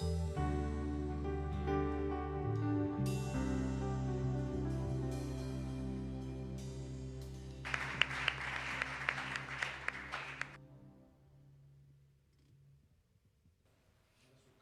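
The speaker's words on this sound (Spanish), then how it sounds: "Vamos a darle un aplauso a la palabra de Dios." A church congregation claps for the word of God in a short, moderately loud burst lasting about three seconds, set over sustained keyboard or organ chords that ring on and then fade into near silence.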